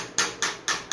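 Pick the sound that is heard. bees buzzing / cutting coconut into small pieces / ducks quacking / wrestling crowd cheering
cutting coconut into small pieces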